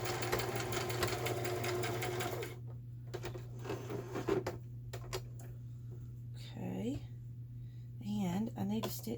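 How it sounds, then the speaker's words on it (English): A sewing machine zigzag-stitches through fabric scraps, running steadily for a couple of seconds and then stopping and starting in shorter bursts, with a person talking throughout. "I'm just going to stitch right through there."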